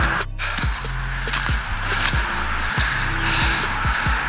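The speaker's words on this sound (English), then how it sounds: "You can probably hear the cars." Traffic near a bridge makes a low, steady engine rumble under a regular rhythm of nearby footsteps crunching along a path.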